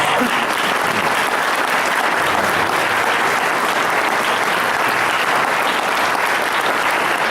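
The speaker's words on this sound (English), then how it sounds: "Let's give one more round of applause to these outstanding student performers." A crowd at a high school and university pops concert applauds the student performers, dense continuous clapping that stays loud and even throughout.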